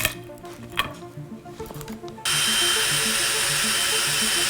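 A power drill on reverse strains against a wooden dowel friction-welded inside a hole, giving short irregular grinding bursts before a loud, steady whirring roar takes over and holds to the end.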